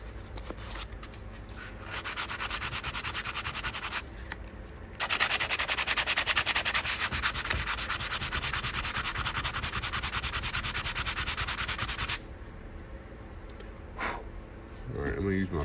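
Sandpaper of 120 grit rasps against an electric guitar body in long, steady back-and-forth strokes, close and fairly quiet, with short pauses between bursts of sanding.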